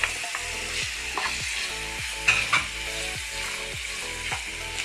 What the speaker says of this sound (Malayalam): നന്നായിട്ട് ഫ്രൈ ആവണം.